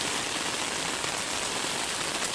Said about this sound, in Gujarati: વરસાદ ચાલુ થઈ ગયો, તમે જોઈ શકો છો.